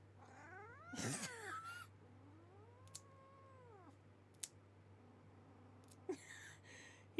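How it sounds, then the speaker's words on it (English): A cat purrs and growls at the same time, a low continuous rumble close by with drawn-out rising and falling vocal moans and a few soft clicks, quiet and with no talk. "He's purring and growling at the same time."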